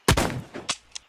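A musket fires in a video game: one sharp, loud shot with a short booming tail, then two fainter pops or clicks, all within about a second.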